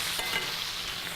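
Bacon fat sizzles in a hot pan around a seared steak, a steady dense crackle held at an even level for the whole short moment, with no talk over it.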